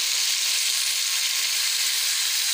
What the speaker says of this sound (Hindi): अदरक लहसुन का पेस्ट, ये देख लें जी। अब इसमें जा रहे हैं टमाटर